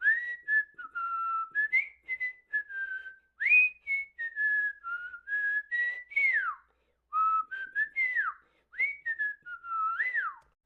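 Someone whistles a melodic tune alone, a series of clear sliding notes in short phrases with brief pauses between them.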